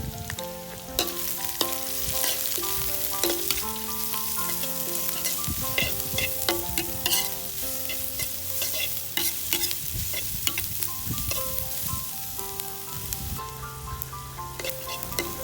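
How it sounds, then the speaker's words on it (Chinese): Onion and carrot stir-fried with garlic in a pan for Thai sukiyaki (suki haeng), a steady close sizzle with spatula scrapes and stirring clatter, over background music throughout. "炒到这种有点变色了我们再放洋葱还有胡萝卜"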